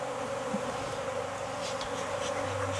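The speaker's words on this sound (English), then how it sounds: "I'm going to have to get away from these bees." Bees buzz in a dense, steady drone, close and continuous, with no talk over it.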